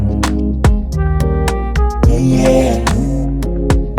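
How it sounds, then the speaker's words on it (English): A singing voice processed through the Howard Benson Vocal Multiplier plugin's slow, dark voice effect, giving loud, layered sustained notes that glide between pitches, with no speech over it. "And you can also introduce this slow, dark voice on your performance."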